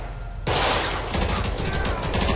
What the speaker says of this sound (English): Oh, they're shooting. They're having a shootout.